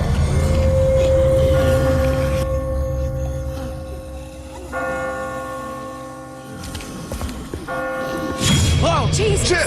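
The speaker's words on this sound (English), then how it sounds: "I just got spooked by those bells" Church bells ring in The Walking Dead video game, a loud sustained peal of tolling tones that fades in the middle and then swells again toward the end.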